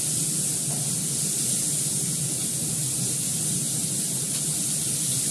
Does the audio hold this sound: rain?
no